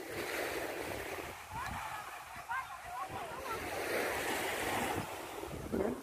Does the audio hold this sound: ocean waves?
yes